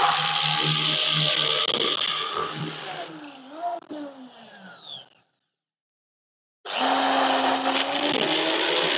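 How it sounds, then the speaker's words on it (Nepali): A power drill whirs loudly drilling into a wall to mount a fire extinguisher, stops briefly, then starts again with a high motor whine, near and steady. "सो त्यस पछाडि हामीले अब ड्रिल गर्दैछौँ"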